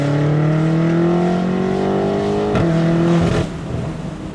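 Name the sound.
BMW M8 Competition cabriolet engine accelerating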